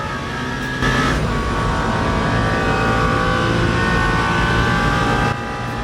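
Race car engine in Le Mans Ultimate, a 24 Hours of Le Mans endurance race, droning loud and steady at high revs, with a swell as the engine note rises just after the start and holds until a drop near the end.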